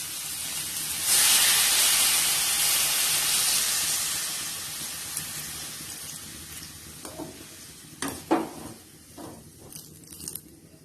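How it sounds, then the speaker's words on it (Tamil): Water poured into a hot pan of drumstick curry sets off a loud, broad sizzling hiss that slowly fades, followed by scattered clinks and scrapes of stirring, close by and without talk. "இது மாதிரி நல்லா பரட்டி விட்டுட்டு நம்ம கொஞ்சம் தண்ணி ஊத்திக்கலாம்."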